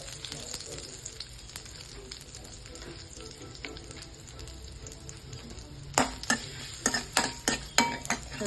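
Curry leaves drop into hot oil in a pan for potato Manchurian, giving a steady close sizzle with stirring clatter of a spoon against the pan, louder scraping strokes near the end; no speech.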